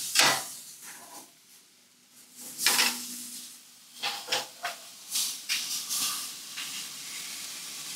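Rabbit sizzling and hissing on a grill, then flipped, bringing fresh bursts of frying crackle and a few sharp pops before it settles into a steady close sizzle.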